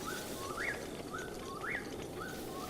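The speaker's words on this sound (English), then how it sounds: "the bird noises and shit?" Bird calls in Breath of the Wild: a small bird repeats a rising, slurred chirp about once per second over a soft outdoor ambience, moderately near and clear, with no voices.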